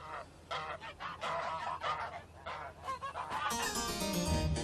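Farm geese honk in a raucous, overlapping chorus of repeated calls at a moderate distance, fairly quiet overall and continuous, with no speech.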